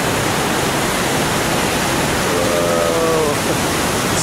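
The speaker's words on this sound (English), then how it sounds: "We dropped down into the river valley. Beautiful river." Broadband rushing water of a river in a mountain valley, steady and fairly loud throughout like a waterfall or rapids, with a faint higher tonal sound briefly in the middle.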